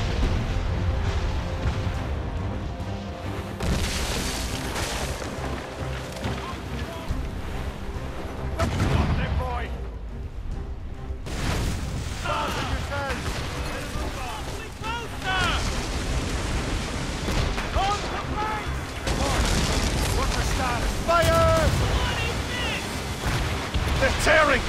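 Ship cannons boom during a naval battle in Assassin's Creed Rogue, with heavy blasts and rumbling under dense game sound, ocean wash and shouted voices.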